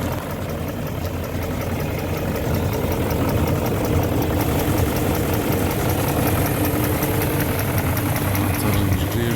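A BMW E38 735i, parked for years, idles steadily with a continuous, rumbling engine drone, close and loud, with no talking.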